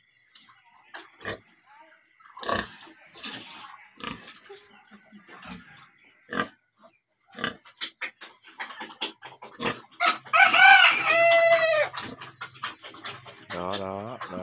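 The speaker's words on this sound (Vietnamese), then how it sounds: "mời cả nhà nghe gà mái gáy nha" A hen crowing like a rooster, heard as a loud, drawn-out harmonic call near the end, following scattered clucks, scratching and other farmyard noises, with a person speaking intermittently.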